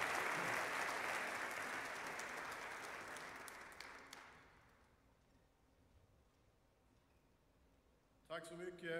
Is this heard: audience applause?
yes